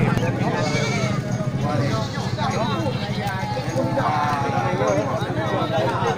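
Crossbred goats bleat among the herd at a livestock market, their cries mixing with sheep-like calls, hoof clatter and the steady murmur of people talking nearby throughout.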